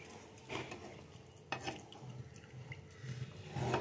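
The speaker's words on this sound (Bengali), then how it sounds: "এবারে আমি আমার পরিমাণ মতন জল দিয়ে দেবো।" Water being added to a simmering taro and potato curry in a pot, a soft splashing pour with light clinks of a pan, fairly quiet and close with no talking.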